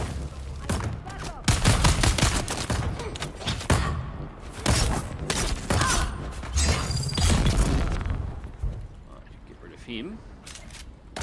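A Dune: Awakening turret fires in rapid, dense bursts over the first eight seconds, then falls quiet except for a few scattered shots and mechanical clicks.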